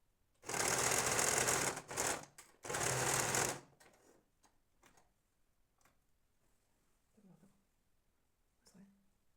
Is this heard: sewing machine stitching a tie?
yes